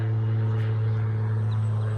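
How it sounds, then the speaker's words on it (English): A float plane passing overhead near a beekeeping site, its steady low propeller-engine drone holding loud and even throughout, with no other sounds over it. "oh, look at that float plane"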